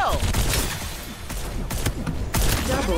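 Rapid bursts of gunfire in the battle royale shooter Farlight 84, dense and loud, with booms and game effects mixed in and some voice chatter underneath.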